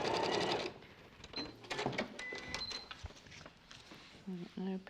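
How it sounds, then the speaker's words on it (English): A sewing machine runs briefly as it stitches along a marked line on a small fabric piece, a short mechanical whir at the start followed by clicks and handling noises, with people talking throughout. "then flip and sew. And sewing on the line."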